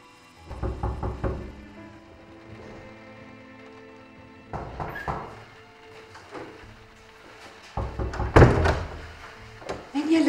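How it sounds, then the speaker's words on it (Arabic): Knocking on a house door at night during a rainy, thundery storm, arriving as several bursts of dull thumps spread across the stretch, with a loud cluster near the end over a low ambient background. "يلي عم يدق بابنا بهالوقت؟"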